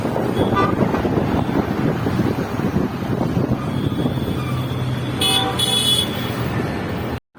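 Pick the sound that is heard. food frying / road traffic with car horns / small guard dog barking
road traffic with car horns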